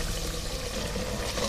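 Water being poured into fried masala in a pan for Pakistani kadhi pakora, a steady close wash of liquid that holds evenly for about a second and a half with no talking.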